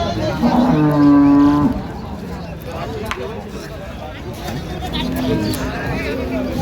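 Cattle at a rural livestock market in Dinajpur moo loudly and close by with one long, drawn-out call, while a crowd murmurs and people talk throughout.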